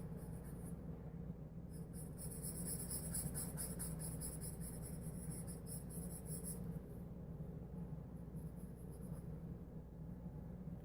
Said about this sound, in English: it makes a nice little scratchy noise that drives some people insane, especially the harder charcoal pencils